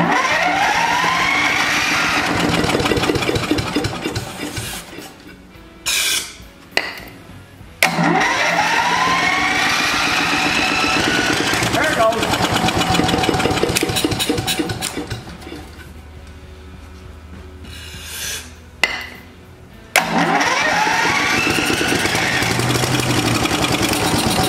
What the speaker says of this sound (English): and see if we can get it to start.